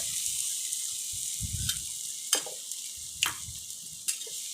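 Paneer and potatoes frying in a pan for curry, a bright, steady sizzle broken by a few sharp spoon scrapes and taps, with soft low knocks from the stove and no talk.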